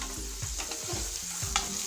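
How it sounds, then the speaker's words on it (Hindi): A spoon stirs peas and spices in a hot pan for a paneer spring roll filling, with scraping strokes in a steady rhythm over a soft sizzle, close up and without talking. "अब सब मसाले को हम लोग अच्छे से मिला लेंगे।"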